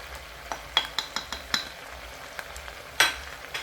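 Potatoes for an egg and potato dish sizzle softly in a pan as spices go in, with a series of sharp clinks and scrapes of a utensil against the pan, one louder clatter near the end.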